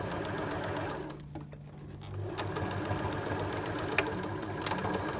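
A sewing machine stitches a short seam on a small egg cosy, its steady motor hum with a rapid needle chatter running close and continuous, dipping briefly near the middle before resuming.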